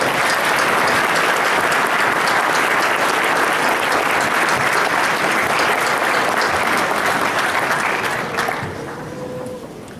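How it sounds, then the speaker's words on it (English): A concert audience at a high school and university pops concert gives loud, sustained applause, a thick roar of clapping that holds steady and then tapers off near the end. "Give them another round of applause."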